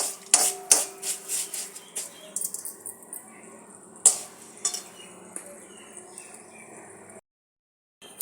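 Fenugreek seeds fry in a pan with sharp clinks and scrapes of a spoon against metal, close and intermittent over a faint sizzle, before stopping abruptly.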